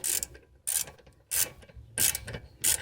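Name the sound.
ratchet with 17mm socket loosening a bolt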